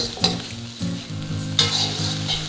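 Cashew nuts are stirred into pineapple shrimp fried rice in a hot pan, a quick close sizzle broken by scraping strokes and a couple of brief metallic clinks of the utensil.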